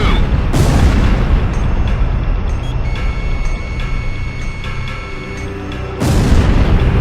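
A SAM site blows up in the air-combat game Ace Combat Zero, heavy booming blasts over a constant roaring bed, with a fresh loud burst hitting near the end.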